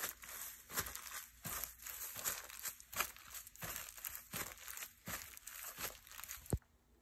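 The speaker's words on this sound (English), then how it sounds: "This is old sound tape, and I crumple it up, and it has a real crunchy kind of sound to it." Old audio recording tape is crumpled by hand in repeated crunchy bursts, close and fairly quiet, ending with a sharp snap.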